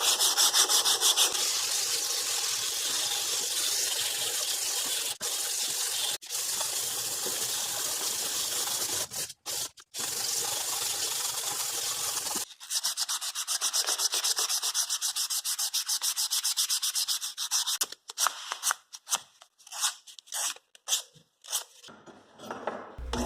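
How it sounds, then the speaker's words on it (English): A wooden knife handle is sanded with a steady, rasping scrape that later breaks into short, uneven strokes separated by brief pauses. "I'm just going to sand it down fine enough so that I can stain it"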